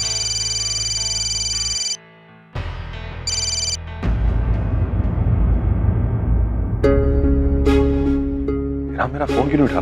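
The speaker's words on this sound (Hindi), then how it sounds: "राम मेरा फोन क्यों नहीं उठा रहा?" An electronic telephone ring sounds in bursts, broken by pauses, then gives way to music and other busy sounds.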